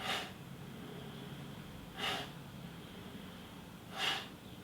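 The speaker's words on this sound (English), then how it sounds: "You can even make the breath audible" Sharp, audible exhales punctuate a fast punching workout, three breathy bursts spaced about two seconds apart over a faint steady background hum.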